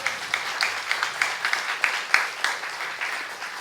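A church youth congregation applauds during a sermon, a dense burst of many hands clapping with a loose rhythmic pulse, fairly close and steady for a few seconds.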